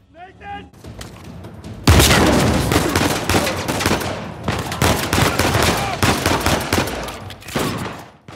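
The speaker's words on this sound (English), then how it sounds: "Oh no, that's a shotgun, dude." Shotgun blasts and other gunfire in Uncharted 4, with a sudden loud onset followed by dense, sustained shooting and impacts, while someone talks over part of it.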